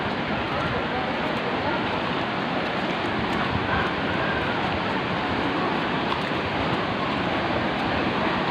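A waterfall at Saklı Kent gorge gives a steady, loud, broadband roar of rushing water that fills the whole span without a break.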